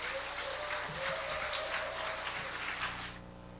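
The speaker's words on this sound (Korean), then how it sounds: "여러분 뜨거운 박수로 모시겠습니다." Warm applause from a church congregation welcoming a pastor to the pulpit: dense, steady clapping that holds for about three seconds and then tapers off at the end.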